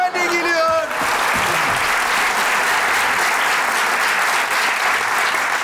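Audience applause for a woman at a children's magic show, starting after a brief spoken line and then swelling into a full, steady room of clapping that carries on alone.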